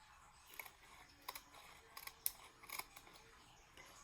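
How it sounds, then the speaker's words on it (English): Scissors trim a paper die cut for a 3D armoire, giving a handful of quiet, close snips and clicks in irregular rhythm against near silence. "And so I'm just going to cut that off."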